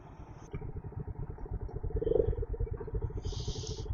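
A motorcycle engine runs steadily at close range on a narrow monsoon-season mountain road between Coimbatore and Munnar, with another vehicle approaching; the motor throbs continuously with slight swells, and a brief hiss appears near the end.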